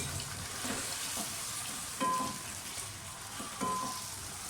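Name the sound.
chicken frying in a pot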